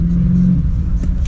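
A 2000 Pontiac Trans Am at a drag strip: a steady, loud low engine rumble fills the whole moment, with a brief swell near the end, and a voice talks over it.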